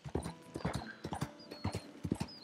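A horse's hooves clip-clop in Red Dead Redemption 2, a close, brisk rhythm of paired strikes repeating steadily with no voice over them.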